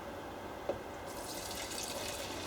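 C41 film stabilizer liquid pours into a jug, a soft, bubbly trickle that starts faintly, then brightens into a steady splashing stream halfway through, heard close and alone.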